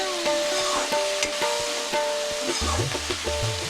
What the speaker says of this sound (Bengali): ছোট আলু, ওটাও তেলে ভেজে নিব